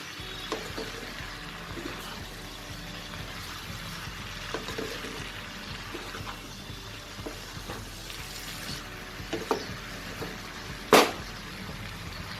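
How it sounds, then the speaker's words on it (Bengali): Bengali mixed vegetable labra being stirred in a pan, with a soft continuous sizzle and frying hiss broken by occasional scrapes and clinks of the spoon, one sharper clatter near the end. "খুলে এটাকে আরও একবার মিশিয়ে নেব ভালো করে।"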